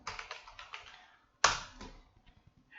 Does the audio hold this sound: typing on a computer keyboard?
yes